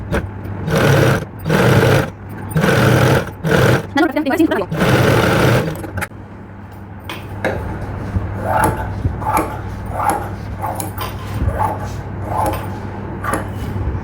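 A tailoring sewing machine stitches the lining of a hip belt in loud rhythmic bursts of rapid needle chatter separated by short pauses, then fainter intermittent stitching follows while a person talks.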